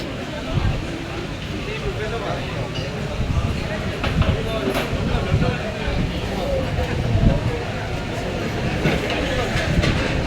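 A train passes nearby with a steady rumble and faint clickety-clack of rail cars, heard under background chatter and crowd noise.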